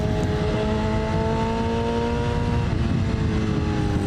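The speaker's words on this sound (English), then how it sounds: "Listen to the engine downshift." A BMW S1000 inline-four motorcycle engine roars steadily up close, its tone dropping as it shifts down through the gears, with no talking over it.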